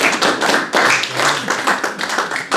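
An audience at a live magic lecture applauds a volunteer with a dense, steady burst of many hands clapping close by, holding strong for the whole moment.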